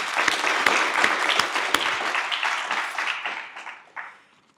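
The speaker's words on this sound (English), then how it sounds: "I think that deserves a round of applause" An audience at a talk on US corn farming and Taiwan trade applauds. Dense clapping fills the room for about four seconds, then thins out and fades.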